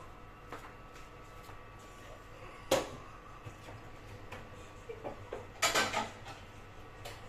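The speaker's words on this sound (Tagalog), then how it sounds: "So, only what we gonna do is chop the fish." A knife chops through a fish head for cooking, giving a handful of sparse, fairly quiet knocks and sharp clicks against a low background hum.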